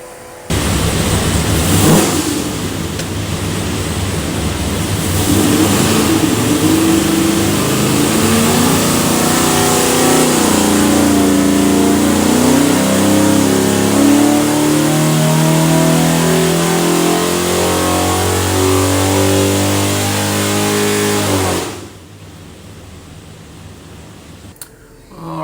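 A 489ci big block Chevy engine fitted with Holley Sniper 2 EFI running on a dyno, revving loudly and climbing steadily in pitch for about twenty seconds before cutting off abruptly into quiet.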